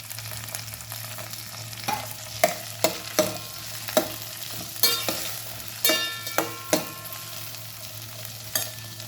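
Curry leaves hit hot oil in a pan for wheat semige uppittu, giving a steady low sizzle broken by repeated sharp clacks of a spoon stirring against the pan, with no voices.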